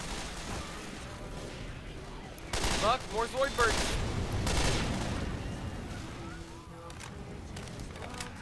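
Rapid bursts of gunfire from the video game Left 4 Dead 2, with a cluster of loud shots in the middle and lighter shots around it, while players shout and talk over the action.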